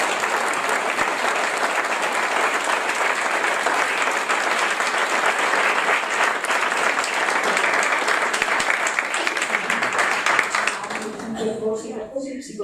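Sustained audience applause at an Italian book presentation on psychotherapy, loud and dense clapping for about ten seconds before fading out, with a few voices emerging at the end.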